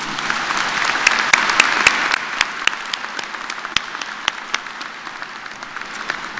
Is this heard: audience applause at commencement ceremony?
yes